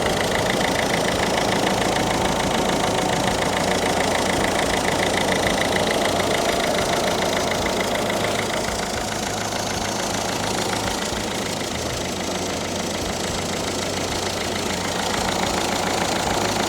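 Citroen C4 1.6 HDi diesel engine idling after an oil, filter and EGR service, a steady close rumble with diesel knock running continuously with no speech.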